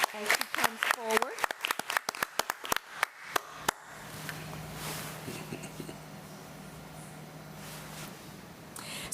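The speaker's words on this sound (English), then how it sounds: "Let's give her a round of applause as she comes forward." A few people at a committee meeting clap for a teacher coming forward, sparse distinct claps for about four seconds that then stop, leaving quiet room tone with a faint hum.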